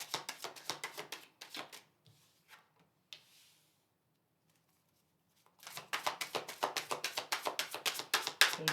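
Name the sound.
tarot cards being pulled and laid out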